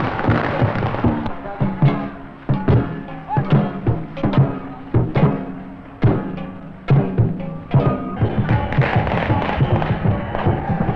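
Firecrackers pop and bang in rapid irregular bursts at a Dragon Boat Festival in Macau, loud and close, with dense crackling over a festive din throughout.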